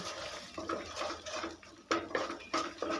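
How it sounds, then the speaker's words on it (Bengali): A spatula scrambles two salted eggs in a kadai with mustard oil, giving irregular nearby scraping, clattering and knocks against the metal pan. "এবার ডিম দুটোকে ভুজিয়ার মতো করে নেব"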